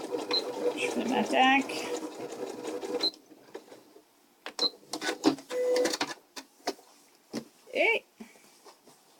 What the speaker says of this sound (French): je couds à peu près 1/8 de pouce